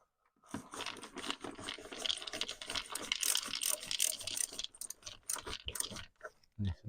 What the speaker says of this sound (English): then I'll just screw these back up